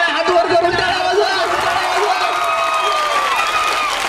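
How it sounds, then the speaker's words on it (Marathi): An audience at a Marathi stage show claps steadily, and the applause blends with crowd murmur and voices throughout. "जोरात टाळ्या टाळ्या हात वर करून टाळ्या वाजवा"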